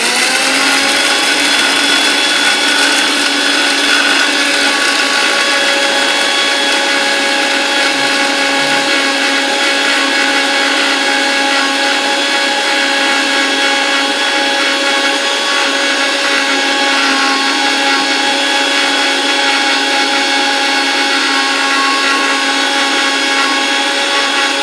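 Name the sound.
mixer grinder grinding fenugreek seeds into powder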